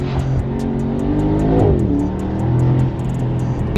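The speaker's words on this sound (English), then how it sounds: "Oh, that exhaust." A 2022 Mercedes SL63 AMG engine growls loudly through its exhaust, revving up and down with a deep, rumbling roar, then a sharp burst at the end.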